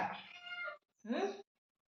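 A domestic cat meows twice in a home kitchen, the first call long and drawn out, the second shorter and rising, both close and fairly quiet with silence between.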